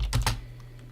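Quick burst of computer keyboard typing while entering a miner name for a Windows Zcash miner setup, a few close key clicks in the first half-second, then quiet.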